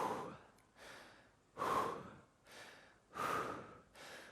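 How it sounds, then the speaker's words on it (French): Heavy breathing while recovering after a cardio workout, with slow, loud exhales in a steady rhythm, about four or five breaths, some strained and gasping, heard close up. "sur le fait de calmer notre respiration"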